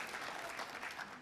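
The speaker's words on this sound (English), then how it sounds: "So, a quick round of applause." A brief, steady burst of audience applause, with many hands clapping together in a room, moderately distant and without speech.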